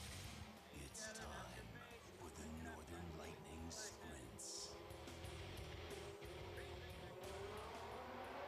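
Lightning sprint cars with chromoly chassis and aluminum and magnesium parts, running on pump gas, rumble and rev together at a speedway as the race starts, with engines passing and voices talking over the steady roar.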